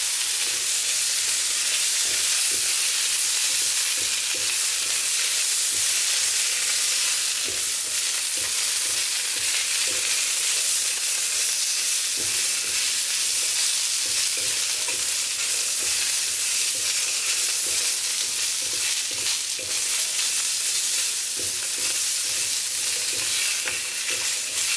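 Chicken, water chestnuts and sugar snap peas stir-fried in a hot wok for moo goo gai pan, a loud, steady sizzle and hiss with scraping tosses running throughout, no voices.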